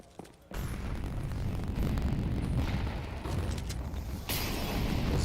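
A Molotov burns in a Counter-Strike match: a steady roaring crackle of fire that starts abruptly and holds loud for several seconds, with a sharper burst near the end.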